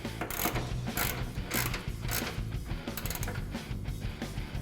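A ratchet tightening the clamp on an MBRP exhaust system, with rapid mechanical clicking of the pawl in steady bursts, close and moderately loud, no talk.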